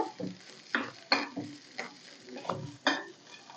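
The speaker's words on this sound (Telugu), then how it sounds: "మనం తీసుకున్న పచ్చిమిర్చిని రెండు ముక్కలుగా కట్ చేసేసుకొని ఫ్రై చేసుకోవాలి చూడండి ఈ విధంగా మనకి ఈ పచ్చిమిర్చి అనేది వేగాలన్నమాట" Halved green chillies frying in a little oil in a pan, light sizzling broken by several clinking stirs of a utensil, close and fairly quiet.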